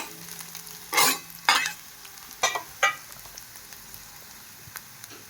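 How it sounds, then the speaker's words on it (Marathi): A handful of curry leaves sautéing in oil for a sprouted-moth-bean tiffin bhaji crackles in several short, sharp bursts, with a faint sizzle lingering between them. "त्यामध्ये मी 5-6 कढीपत्ता आपण यामध्ये परतून घ्यायचा आहे"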